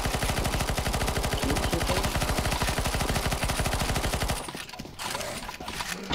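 Gunfire in CS:GO Zombie Escape, a loud, relentless stream of rapid automatic shots in a tight, even rhythm for about four seconds, then a sudden cutoff followed by a few scattered, quieter pops.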